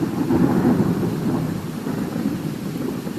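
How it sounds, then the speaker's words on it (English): Heavy rain with a deep, rolling rumble of thunder, loud and continuous throughout without any voices. "As the rain fell harder and faster, the water began to rise."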